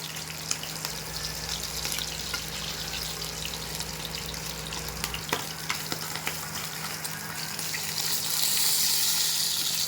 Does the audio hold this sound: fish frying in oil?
yes